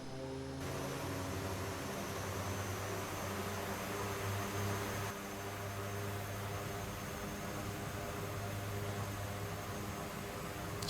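The twin turboprop engines of a DHC-6 Twin Otter in flight in X-Plane 11 make a steady droning hum with a constant broadband roar throughout.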